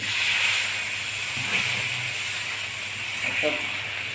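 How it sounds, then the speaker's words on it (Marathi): Rava, poha, curd and urad dal dosa batter hissing on a hot tawa, a steady broad sizzle throughout with a couple of faint clinks, close and moderately loud, no talking. "आता आपण तव्यावर घालून घेत आहोत"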